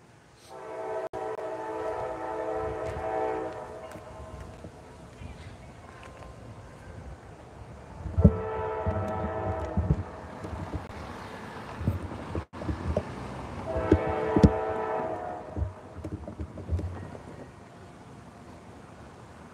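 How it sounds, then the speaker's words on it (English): CSX freight train passing a crossing in Deshler, Ohio, on the Willard Subdivision, sounding three long loud horn blasts over rumbling wheels, with mechanical crossing bells in the background. "B714 is my first train here in Deshler, Ohio on CSX Willard Subdivision."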